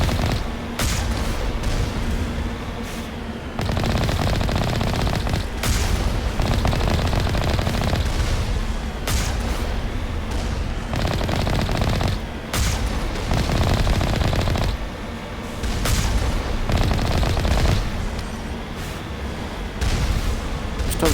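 Mass Effect Legendary Edition firefight, sustained loud rattling automatic gunfire in long bursts with brief pauses and occasional heavier booms, continuing for about twenty seconds without talking.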